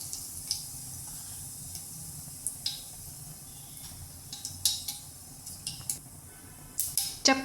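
Mustard seeds and cumin hit hot oil in a kadai for a Kathiyawadi tempering, giving a steady low sizzle with scattered sharp crackles and pops that grow busier toward the end, close and alone.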